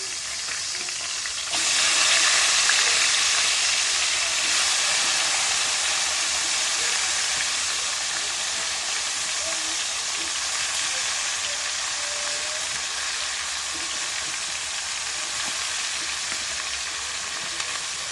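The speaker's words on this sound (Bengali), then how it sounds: "তেলটা ভালো গরম হয়ে গেলে ফুলকপিগুলো দিয়ে দেব।" Cauliflower goes into hot oil for a Bengali potato and cauliflower vegetarian dish: after a brief quieter moment, a loud, close, steady sizzle and crackle bursts up and carries on without letup, with no voices.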